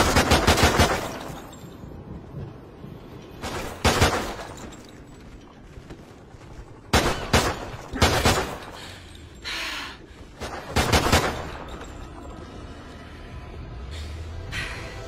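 Sniper shots in a Call of Duty video game fire in short, spaced bursts of loud cracks with echoing tails, several quick shots in succession, separated by quieter game ambience.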